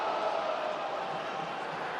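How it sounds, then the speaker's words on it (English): A rugby league stadium crowd cheering at a Hull FC versus Wigan match, a broad steady roar of many voices at a distance, sustained for a couple of seconds. "The crowd find their voices."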